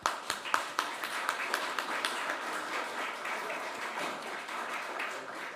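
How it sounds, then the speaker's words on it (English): An audience applauds after a panel discussion on Der Blaue Reiter and Walter Benjamin, opening with a few distinct, sharp claps before settling into even, moderately quiet clapping from a mid-sized crowd. "So let's give a round of applause."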